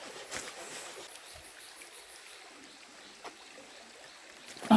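Water from a stream at a campsite flows and trickles softly in a quiet, continuous outdoor murmur, with a brief louder sound at the very end.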